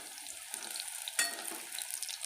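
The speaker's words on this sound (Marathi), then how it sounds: "अशा पद्धतीने भेंड्या तळून घ्यायच्या आहेत तेल काढल्यानंतर गॅस मंद ठेवायचा आहे" Okra (bhindi) frying in oil over a low gas flame, giving a steady close sizzle with one brief sharper crackle midway and no voices.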